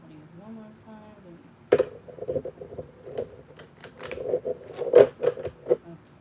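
A Shadow Work oracle card deck is shuffled by hand, giving a burst of quick papery riffles and flicks that starts abruptly after a soft voice and continues in uneven clusters.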